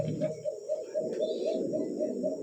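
Pigeons coo in a low, rolling, continuous murmur at a bird market, with several birds overlapping and a faint high tone running underneath.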